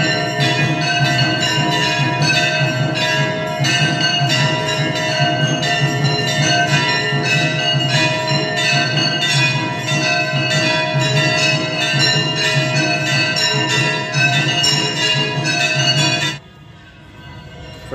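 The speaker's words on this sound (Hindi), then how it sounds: "मंदिर में जो अभी गणेश जी की आरती हो रही है उसके घंटे की आवाज़ है" Temple bells ring continuously during an evening Ganesh aarti in Bandikui, Rajasthan, a dense, clanging clash of many rapid strikes, loud and sustained, then stop abruptly leaving a faint background hiss.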